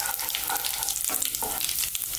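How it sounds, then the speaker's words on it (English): Cumin seeds crackle and sizzle in hot oil for a Baingan Bharta. The frying is close and steady, with a dense hiss broken by small pops and spits and no voice over it. "There's our cumin seeds into that hot oil."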